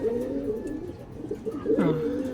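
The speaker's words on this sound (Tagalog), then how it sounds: "Ibon to." A pigeon or dove coos close by in a few soft, throaty bursts, with a brief higher call near the end over a faint background.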